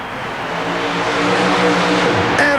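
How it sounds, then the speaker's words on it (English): Super modified mud racing car roaring through an indoor arena run at Nassau Coliseum in 1991, a loud, sustained engine drone that builds steadily with no voices over it. "Incredible run, carrying the left front wheel most of the course."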